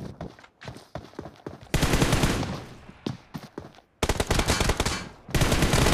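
Rapid bursts of automatic gunfire from a Free Fire tournament match, loud and close, with several sustained volleys separated by short gaps and scattered single shots.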